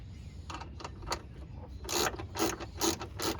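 A socket wrench ratchets down the door hinge bolts on a Kia Rio, giving a run of quick, close clicking bursts that grow louder and more regular toward the end.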